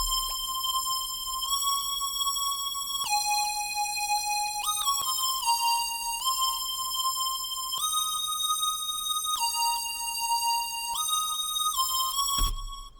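A bright synth lead pattern in an electronic music production, played alone: sustained buzzy tones stepping between a few pitches in a repeating phrase with occasional quick runs, steady and loud throughout.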